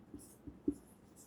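Quiet, scattered scratches of writing on a board during a maths lesson on LCM and HCF, a few soft separate strokes with gaps between them and no talk.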